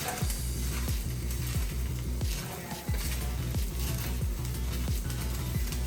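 Rice is stir-fried with garlic and ginger for chicken fried rice, a dense continuous sizzle close up, punctuated by regular rhythmic scrapes and taps of a spatula against the pan.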